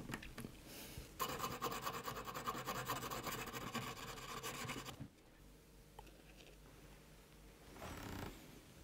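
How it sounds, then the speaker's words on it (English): A nut file's end scrapes and rubs as it presses filler mix into a guitar nut, giving a steady close rasping that drops off abruptly, followed by quieter intermittent scratches. "You can compress this mix with the end of your nut file."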